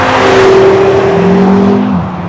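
A 2013 Audi RS Q3 engine and exhaust pulling hard under acceleration, a loud, close, rising drone with a steady tonal note that shifts lower near the end as it eases off.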